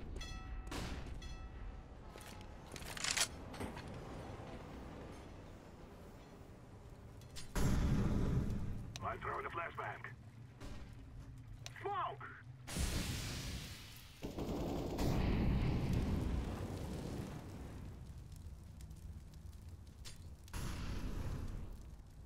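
Grenade and flashbang blasts in a first-person shooter, several heavy booms and bursts of gunfire scattered across the stretch, loud and close, separated by quieter gaps.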